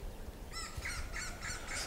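An African bird, a tarako, calls outdoors in Niger with a run of about five short, raspy caws at moderate distance over faint background noise.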